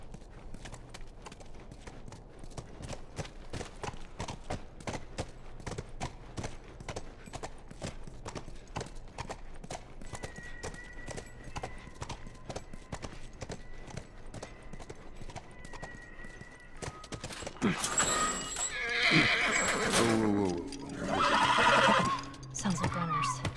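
A horse in the video game The Last of Us, its hooves clip-clopping in a steady rhythmic walk, followed near the end by loud neighing and whinnying.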